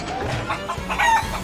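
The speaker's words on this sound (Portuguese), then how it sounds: "Você assustou a galinha!" A chicken clucks in a few short bursts, fairly close, amid a busy background with other noise.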